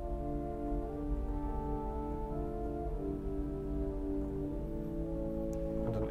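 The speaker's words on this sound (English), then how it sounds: "We've got muted violins," Muted violins 8-foot stop on a large Austin pipe organ, a quiet, sustained string-like chord held steadily and alone for around six seconds.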